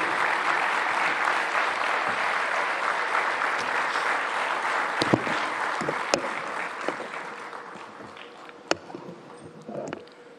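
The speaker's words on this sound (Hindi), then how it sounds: "तालियों की गड़गड़ाहट से एनडीटीवी वर्ल्ड समिट के इस मंच पे स्वागत कीजिए भारत के प्रधानमंत्री श्री नरेंद्र मोदी का" A large audience at the NDTV World Summit 2025 in New Delhi applauds the Prime Minister of India with loud, sustained clapping that slowly thins out toward the end, leaving a few scattered claps.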